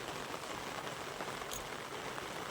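Rain falls steadily, a dense, even patter that holds at the same level throughout with no voices.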